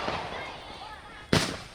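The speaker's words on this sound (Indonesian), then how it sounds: "melakukan tembakan petasan yang mengakibatkan 2 orang petugas terluka" Firecrackers set off by a crowd during a tense blockade standoff with security officers, one sharp loud bang bursting near the end after muffled crowd noise and distant pops.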